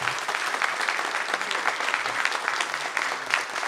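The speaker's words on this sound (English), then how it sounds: "Please give them a round of applause." Steady round of applause from a seated audience at a panel discussion during a public witness event at a denominational general assembly, dense clapping sustained throughout without any speech.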